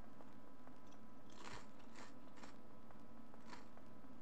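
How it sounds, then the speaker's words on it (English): Cheez-It crackers being chewed close to the mic in a few crisp crunchy bursts with quiet gaps between bites, no talking. "Can you hear me chewing my Cheez-Its?"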